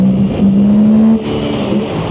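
A Suzuki GSX-8R motorcycle on its stock exhaust, revving hard for a brief wheelie: a loud, close engine note climbs, holds for about a second, then drops off as the throttle closes.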